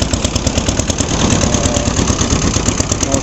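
Hired wooden motor boat's engine chugging close by, a loud, even rapid putter with a steady pulsing beat and no voices.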